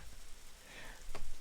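Steady rain hisses softly across the ground in the survival video game Survivalist: Invisible Strain, a continuous wash of faint drops with a brief brighter spatter near the end.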